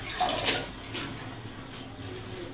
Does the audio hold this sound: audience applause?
no